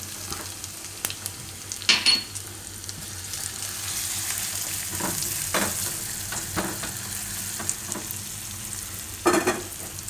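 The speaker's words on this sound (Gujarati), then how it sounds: "થોડીક વાર આ રીતે તેલમાં ફેરવી લેવાનું લસણ ને મરચું." Garlic and chili sizzle in hot oil as a tempering for a bitter gourd chutney, a soft continuous fry broken by several sharp scraping stirs of a spoon in the pan, close up with no talking.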